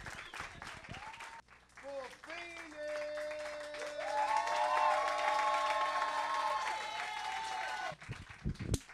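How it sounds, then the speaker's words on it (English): A comedy club audience claps and cheers for a comedian wrapping up a set, a steady wash of applause and crowd noise swelling in the middle, with the comedian talking over it. "Keep clapping, keep clapping,"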